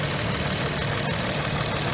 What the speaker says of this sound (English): I've got the car idling